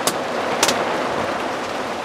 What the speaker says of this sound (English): And the rain is coming in this way a bit.